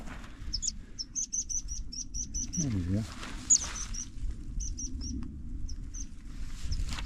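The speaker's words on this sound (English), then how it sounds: "I almost stood on this wee bird here." A fledgling bird on a hill path in the Fannaichs gives repeated thin, high peeping chirps in quick bursts over steady wind. Someone briefly speaks partway through.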